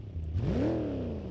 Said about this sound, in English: Definitely sounds like a sportier V8.